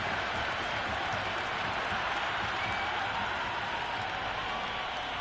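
Cricket crowd at an India versus New Zealand match applauding and cheering a boundary four, a dense, steady roar of clapping and voices from a large stadium audience, sustained evenly throughout without commentary.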